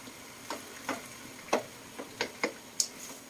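Ground meat for picadillo sizzles faintly in a pan while a utensil clicks and scrapes against it in about seven sharp, evenly spaced strokes, close and quiet with no talking.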